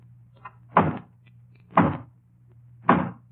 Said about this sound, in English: And then there's the hollow knock on the front door. I'll demonstrate that, too.